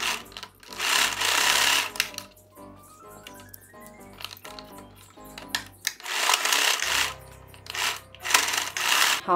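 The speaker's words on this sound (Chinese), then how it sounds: "我们等一下呢，就压缝这一条，2边压缝这一条" Sewing machine stitching a fabric KF94-style face mask, loud bursts of rapid mechanical whirring that stop and start, with fabric handling and rustling in the gaps.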